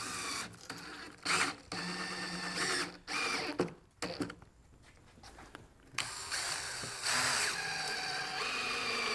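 A power drill drives screws into wooden transom planking on a small boat build, repeated whirring bursts of varying length with short pauses, close and fairly loud.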